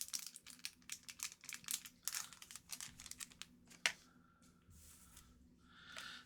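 Opening a 2024 Upper Deck Marvel Beginnings trading card pack, with close crinkling foil wrapper and papery rustles, a sharp tap near the middle, then quieter shuffling as the cards slide out.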